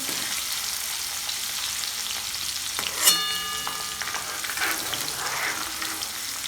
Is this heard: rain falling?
no